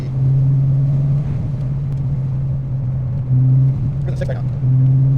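Steady engine hum from a Corvette C5 Z06 cruising on a road, a constant low drone that swells briefly a couple of times, with a voice speaking over it.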